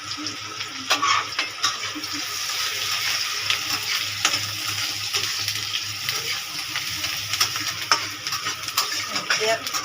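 Onion frying in a pan with cumin in hot oil, a loud continuous sizzle with stirring scrapes and crackles throughout.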